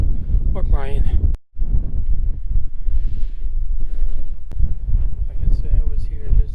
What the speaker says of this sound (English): The wind is whipping.